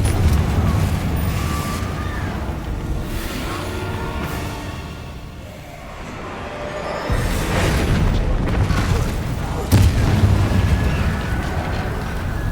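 A Confringo spell explodes in Hogwarts Legacy with deep booming rumbles and fiery bursts, one heavy blast hitting partway through amid continuous loud combat noise.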